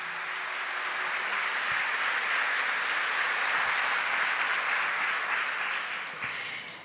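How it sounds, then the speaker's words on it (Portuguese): Loud, sustained applause from a church audience at a Catholic gathering, a dense steady wash of clapping lasting the whole stretch and tapering slightly at the end. "pode aplaudir forte"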